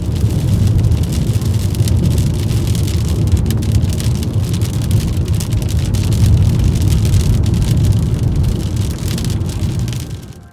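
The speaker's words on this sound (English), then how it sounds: "I parked and got out to feel the rain and witness this storm" Heavy rain from a thunderstorm pours down steadily with loud, dense hiss and patter close by, a broad roar that holds the whole time before cutting off at the end, with no voices.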